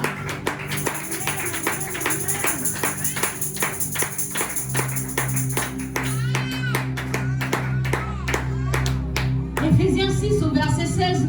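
A church congregation claps in fast, steady rhythm, dense and loud, with voices and organ-like tones underneath and a rising shout of cheering near the end.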